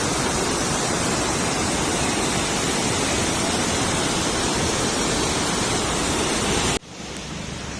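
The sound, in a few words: water flowing through a canal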